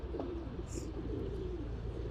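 Male pigeons coo softly near a female, a low close murmur of repeated coos over a steady background hum, with a brief higher chirp partway through.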